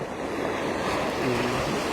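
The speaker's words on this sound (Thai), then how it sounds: "อันนี้เป็นหาดพยูนใหม่นะคะ หาดพยูนใหม่" Sea waves roll onto Hat Phayun Mai beach in Ban Chang, Rayong, a steady, loud wash of surf mixed with wind buffeting the microphone, with no talking.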